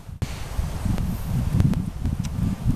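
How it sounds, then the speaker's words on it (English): Wind moving through the forest trees of a golf course, a steady low rumbling rush with soft rustling that swells and eases, plus a few faint brief clicks. "You've got a general wind direction, but it will funnel up the trees."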